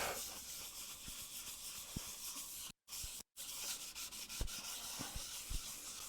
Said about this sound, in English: I'm spraying a couple of the WD-40 on here. I just make circular motions